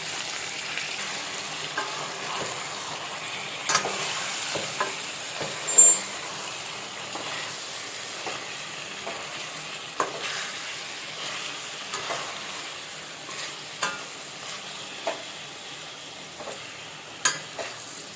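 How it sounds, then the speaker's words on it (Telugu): Chicken being stirred and fried in a pan for spicy chicken fry, a soft steady sizzle broken by scattered scraping knocks of the spoon, fairly quiet and close. "ఈ చికెన్ని ఇందులో వేసేసుకుందాం సో కలుపుకుందాం ఇప్పుడు ఒకసారి"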